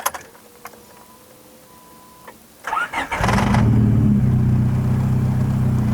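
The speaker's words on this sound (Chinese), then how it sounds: "所以我们打着引擎看看。" Rebuilt Honda EK car engine with a new block, 84mm pistons and a K-tune muffler being started. The starter cranks briefly after a few quiet clicks, then the engine catches into a loud, steady idle.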